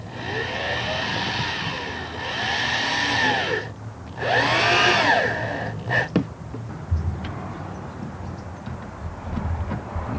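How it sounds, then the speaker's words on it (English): A power drill whines up and down in pitch through several bursts, drilling holes in wood, loud and close, followed by a brief clatter and quieter handling noise. "Now we're ready to drill the holes and install our doors."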